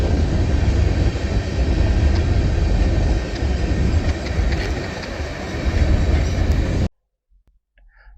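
A freight train rolls past at a railfanning spot in Lakeland, Florida, with a loud, sustained rumble and clatter of wheels for several seconds before the sound cuts off abruptly.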